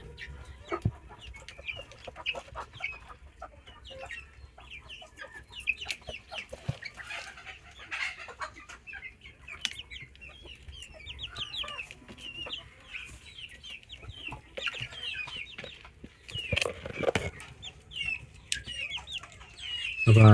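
Native Indian chickens with two-month-old chicks cluck busily and continuously in a yard. Several birds call at once, some near and some farther off, with sharper, louder squawks toward the end and no talking.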